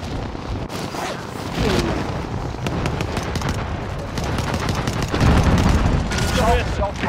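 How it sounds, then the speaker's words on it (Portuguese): A sniper rifle shot rings out in a Call of Duty match, amid a dense run of sharp gunfire bursts and booms, with players' voices talking over the action throughout. "tiro de snipada!"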